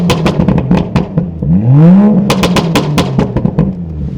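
A stage 2 BMW 435i engine revs close by, a loud rising and falling sweep of engine pitch surrounded by rapid clattering pops and crackles.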